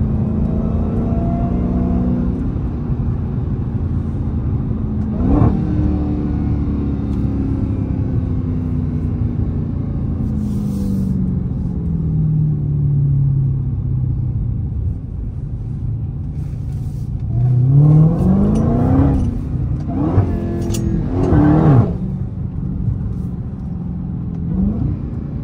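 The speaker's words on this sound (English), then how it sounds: "That's how it be. That's how the exhaust be, bro." A Dodge Hellcat muscle car's exhaust revs loudly and close, with a deep rumbling idle, a sharp blip near five seconds and a burst of repeated throttle revs near the end.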